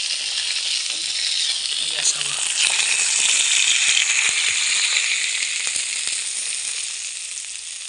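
Fish sizzles and crackles in hot oil in a pan, half-fried for Bengali fish bhapa; a steady, close, bright hiss with small pops running throughout.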